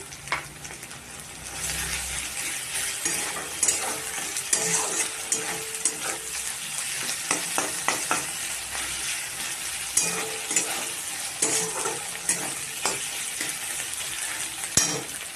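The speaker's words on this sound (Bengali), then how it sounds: "এইভাবে ভাজতে থাকবো বন্ধুরা, একটু লাল লাল হয়ে যাবে পেঁয়াজটা" Onions and then garlic fry in a pan until reddish, a steady dense sizzle carrying on for the whole stretch, broken by frequent scraping stirs and clicks of a utensil against the pan, close and continuous with no talking.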